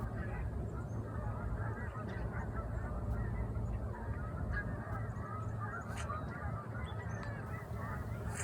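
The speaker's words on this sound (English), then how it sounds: "here are some Canada geese flying south over my muskrat shack here in the Gatineau Hills in Quebec" Many Canada geese flying south overhead in the Gatineau Hills, Quebec, honk repeatedly in a noisy, overlapping chorus, loud and continuous, with a faint voice murmuring underneath.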